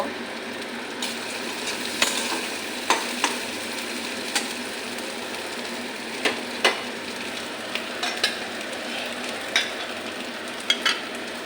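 Onions fry in a pan while making chickpea dal, a continuous sizzle broken by frequent clicks and scrapes of a utensil stirring against the pan.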